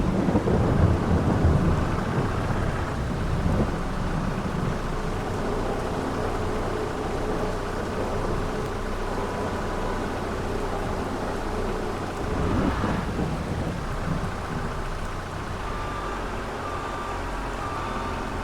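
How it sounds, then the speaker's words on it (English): Steady heavy rain pours over long rumbling thunder in a Farming Simulator 22 game, a dense constant wash with a louder roll near the start and a brief swell midway, no voices. "I'm all done and it started to rain"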